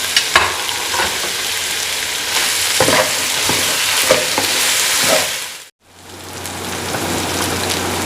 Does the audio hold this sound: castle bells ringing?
no